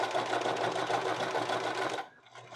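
Close, steady rapid whirring and stitching of a sewing machine top-stitching a pants hem, running continuously for about two seconds and then stopping abruptly.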